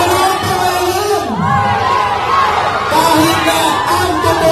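A large crowd at a political rally in Caloocan shouts and cheers in a dense, continuous roar, with voices chanting together and rising in waves throughout.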